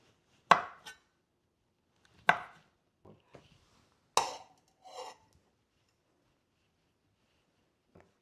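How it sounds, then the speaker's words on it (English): Knife chopping sausages into tiny pieces on a board for Korean army stew, heard as a few sharp, separate cuts spaced well apart with quiet gaps between them. "cut the sausages into little tiny pieces"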